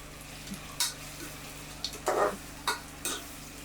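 Onions sauté with turmeric powder in a pan for chicken biryani, with a soft continuous sizzle broken by several bursts of spatula scraping and stirring. There is no talking.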